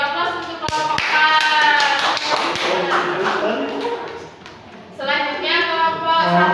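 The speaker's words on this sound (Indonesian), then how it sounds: "Oke, beri aplaus untuk kelompok A." Applause for a student group in a classroom, a burst of hand claps and taps rising and fading, then swelling again, mixed with voices talking over it.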